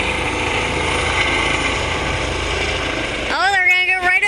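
A medical helicopter lifts off in Monaca, its rotor and engine making a steady, fairly distant drone, with a voice coming in near the end.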